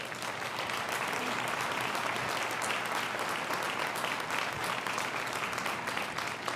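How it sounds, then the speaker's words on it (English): An audience at the christening ceremony for the submarine New Jersey (SSN 796) gives steady, sustained applause, a dense wash of clapping that holds evenly throughout. "They deserve a round of applause"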